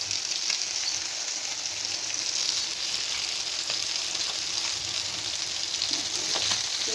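Sliced tomatoes and green chillies frying in hot oil give a continuous, loud, close sizzle with a fizzing hiss, steady and unbroken over the whole stretch with no talk.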